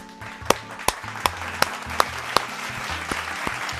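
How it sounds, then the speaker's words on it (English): Several hands clap in a steady, loud rhythm of sharp individual claps, roughly two or three per second, over a low musical bed from a video game. "Clap it up, y'all. Clap it up."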